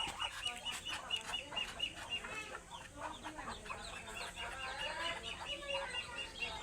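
Chickens cluck steadily inside a lit poultry house on a small farm, several birds calling over one another at moderate distance with a constant low hum behind them, with faint talk mixed in.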